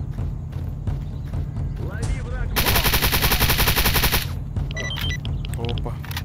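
Rapid automatic gunfire rattles in a dense, loud burst during a firefight in the game S.T.A.L.K.E.R. Anomaly, with scattered single shots and other game sounds before and after, and someone talking over it.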